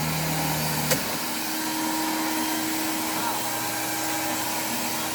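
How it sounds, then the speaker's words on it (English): A 1989 Hoover Dimension 1000 canister vacuum fitted with a Eureka Express nozzle runs with a steady, close motor whine and airflow hiss; a sharp click near the start shifts the tone before the drone settles. "And this is the Hoover Dimension with the Eureka Express nozzle."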